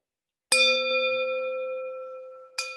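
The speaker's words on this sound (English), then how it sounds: "I don't have it, but I got my own bell." A small hand bell rung to close a club meeting: one clear, close ring with a long, slowly fading tone, then a second quick strike near the end.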